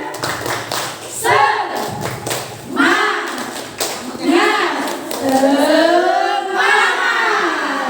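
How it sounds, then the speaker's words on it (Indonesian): A group of teachers and parents performs a rhythmic spirit clap, tepuk semangat, with bursts of claps in a patterned beat mixed with chanted voices. "kita tepuk semangat dulu ya. Tepuk semangat."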